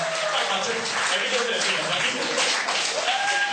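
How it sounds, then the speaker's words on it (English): An audience applauds and cheers as a stand-up comedian is introduced, with sustained clapping mixed with voices and whoops at steady loudness. "please give a round of applause"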